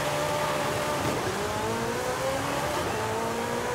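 A bubble car's small engine revs hard and steadily during a launch in Forza Horizon 5, a continuous loud whine with pitch rising in gear sweeps and no talk.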